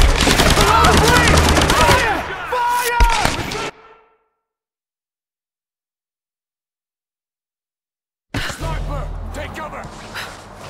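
Rapid gunfire bursts from the 2013 Tomb Raider video game crackle loudly over shouting voices for nearly four seconds, then cut to silence before another dense burst of combat noise returns near the end.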